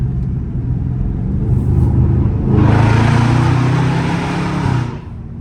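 A Dodge Charger Scat Pack's loud engine rumbles on a street drive, then rises into a strong rev as the driver downshifts, holding the roar for a couple of seconds before easing off.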